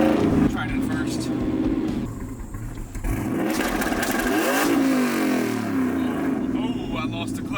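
A Chevrolet Silverado with an LS1 V8 and T56 manual gearbox revs hard on a two-step launch limiter, the engine note climbing and sweeping in pitch, with people talking over the loud, continuous roar.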